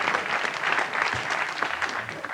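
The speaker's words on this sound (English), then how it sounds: "People from the Malone Road are not clapping." An audience at a live comedy show in the Grand Opera House, Belfast, claps steadily. The full-house applause is even and sustained with no break.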